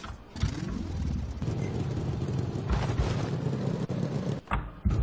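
A car engine in the video game Orion Dino Horde roars and revs steadily at mid pitch, loud and close, with a few brief dips and surges toward the end.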